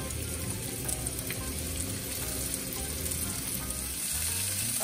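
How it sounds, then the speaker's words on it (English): Chicken breasts sizzle in hot oil in a pan, a steady close crackle and hiss running continuously with small pops throughout. "I'm just gonna lay the chicken breasts right into the pan. You can hear that, just a little bit of sizzle."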